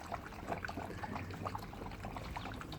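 Water left over from thawed meat is poured out in a close, soft, continuous trickle and splash lasting a few seconds, with no talking.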